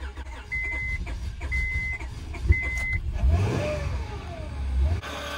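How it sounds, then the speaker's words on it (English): A car engine cold start on a farm in Missouri: a loud, low engine rumble fills the clip, with a few short repeated beeps early on and a surge of revving near the end before it cuts off. "Now that was an epic cold start."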